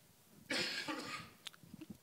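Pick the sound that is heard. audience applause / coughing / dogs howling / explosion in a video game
coughing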